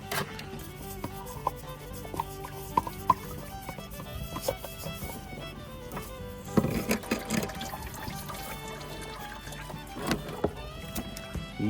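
Engine oil drains and trickles from the oil filter housing of a 1982 Chevy LUV diesel truck, a steady liquid pour with scattered metallic clinks and handling knocks, close and fairly quiet, with no talking.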